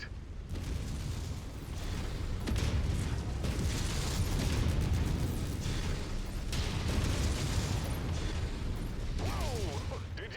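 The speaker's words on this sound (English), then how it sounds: "The ammo just went off like fireworks." Ammunition cooking off like fireworks in a video game battle, with a dense run of booms, pops and crackling bursts over a rumbling low roar, lasting throughout at steady loudness.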